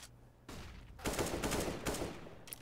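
Gunfire in the video game CS:GO: after a brief lull, rapid bursts of rifle shots crack out in quick clusters, fairly faint overall, with no talk over them.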